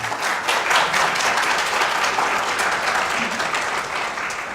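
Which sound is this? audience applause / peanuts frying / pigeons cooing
audience applause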